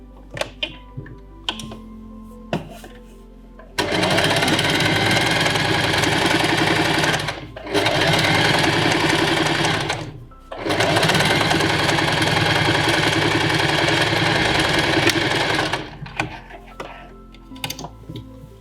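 Domestic sewing machine running steady bursts while stitching the side seam of a garment bodice, three long runs separated by short pauses, close and loud with no talking.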